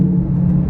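A Lamborghini Gallardo fitted with a Quicksilver exhaust back box rumbles at idle, a loud, deep, steady drone close by with no other sounds.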